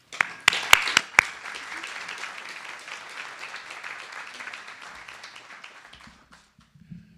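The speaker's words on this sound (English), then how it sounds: "Please welcome him with a hearty applause as he introduces our speaker." A full room at a speaker-series event breaks into applause, with a few sharp close claps at the start, then the clapping thins and fades out over several seconds before a brief voice.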